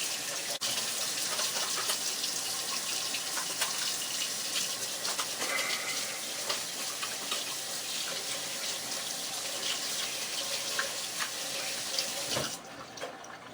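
A kitchen tap runs in a steady, loud, hissing stream while something is washed for pizza preparation, continuing almost unbroken until it cuts off abruptly near the end.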